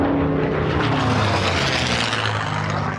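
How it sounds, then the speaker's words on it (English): A loud, continuous engine drone of historic military planes flying overhead at Dallas Executive Airport roars throughout, with no voices. "The sound of planes heard overhead."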